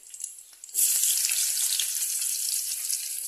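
Chopped onions hit hot oil in a pan for a Gujarati onion curry, bursting into a loud, steady sizzle after a moment of quieter kitchen clatter, then frying on continuously up close.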